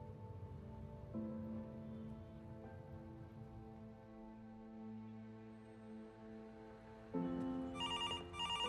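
A telephone rings in an NDTV newsroom, its steady electronic ringing quiet and continuous, with a louder burst of tone near the end and no talk.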